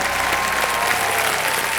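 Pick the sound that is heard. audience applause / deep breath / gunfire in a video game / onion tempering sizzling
audience applause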